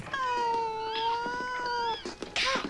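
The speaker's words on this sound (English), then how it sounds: "Kittens. Persian cats." Persian cats give a long, drawn-out meow, then short overlapping mews and cries that end in a brief noisy scuffle, close and clear.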